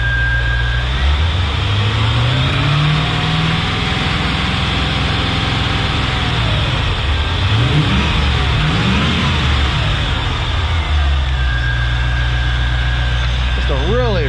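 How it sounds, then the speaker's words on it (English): A 1996 Chevy Corvette LT1 V8, pulled for a swap with its transmission and belt-driven accessories, runs steadily at idle close up, with a smooth low rumble and a brief rev in the middle. "Just a really good running motor."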